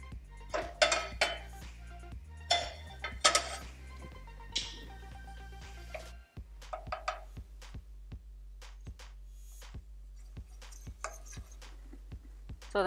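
Bowls being handled in a home kitchen, a series of bright clinks and knocks in uneven clusters over a steady low hum, with quieter taps spaced more evenly toward the end.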